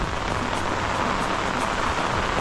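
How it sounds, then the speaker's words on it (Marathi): Heavy rain falls steadily beside a river during a fishing trip, a dense, loud, continuous hiss of drops on water and ground with no pauses. "पावसाचा जोर बघा खूप पाणी चालू आहे"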